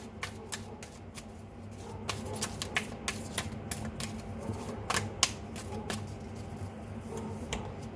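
Tarot cards are shuffled and drawn, giving quick crisp riffling flicks and sharp papery taps in an uneven run, close and fairly quiet, with no talk over them.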